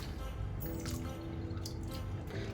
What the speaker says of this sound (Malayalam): മൂന്നാമത്തെ വെള്ളം ഞാൻ തണുത്ത വെള്ളമാണ് ഒഴിച്ചത് ഫ്രിഡ്ജിൽ നിന്നുള്ള വെള്ളം അതിൽ നമുക്കിങ്ങനെ കഴുകിയെടുക്കാം